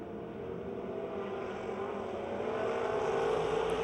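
Race cars roaring around a dirt speedway at Pennsylvania Motor Speedway near Pittsburgh, a loud, steady blended engine drone with no break throughout.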